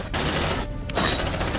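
Rapid automatic gunfire from the video game Aliens: Dark Descent blasts in a dense, loud, continuous burst with a short gap partway through, then resumes.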